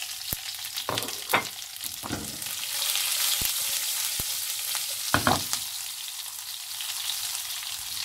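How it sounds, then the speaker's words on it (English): Whole red chilies, curry leaves, onions and garlic fry in hot oil for homemade sambar, a steady close sizzle with a few sharp pops and stirring clatters, no talk. "Just fry these ingredients for about 2 minutes on a medium flame."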